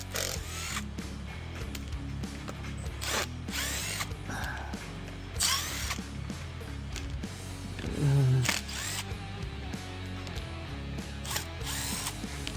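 Screws backed out of a STIHL FC 56C edger during repair, with close, intermittent bursts of whirring driver and ratcheting clicks separated by handling noises and short pauses.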